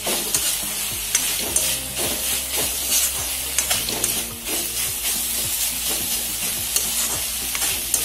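Potatoes frying in a pan for an Assamese jute-leaf (morapat shak) stir-fry, a steady close sizzle with repeated scraping stirs throughout and no talking.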